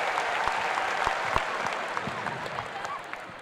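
An audience at an Indonesian televised talk-show gathering in Solo claps together, a steady, continuous round of applause that fades slightly toward the end.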